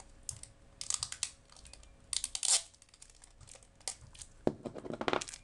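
Transparent tape is pulled and cut during a keyboard repair, giving quiet bursts of crinkling, peeling and snipping, close and intermittent, with sharper clicks near the end and no voices.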